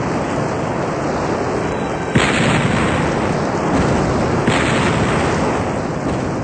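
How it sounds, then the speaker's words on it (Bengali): A volcanic eruption roars as a loud, dense, continuous rumble, with two sharper blasts surging out of the din partway through and no voices. "আগ্নেয়গিরির বিস্ফোরণের ফলে ছাই ও ধূলিকণা প্রচণ্ড বেগে উৎক্ষিপ্ত হয়"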